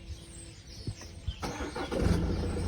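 A 2017 BMW 3 Series engine starts with a newly programmed key, clutch pressed: a quiet crank turning over that catches into a steady, building idle, recorded close inside the car.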